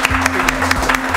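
Brief applause from a class audience at an electronics repair lesson: a short run of quick claps over a steady low hum.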